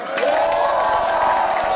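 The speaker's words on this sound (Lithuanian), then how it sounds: "Taigi, plojimai jam." A crowd outside an arena welcoming the Žalgiris basketball team cheers and whoops loudly in a brief sustained burst, with scattered clapping under the roar.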